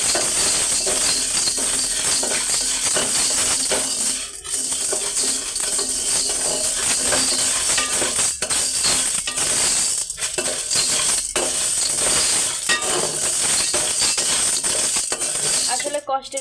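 Chickpeas being roasted in a pan for making chhatu, heard as a dense, continuous rattling and scraping of dry grains stirred against the metal, loud and close throughout.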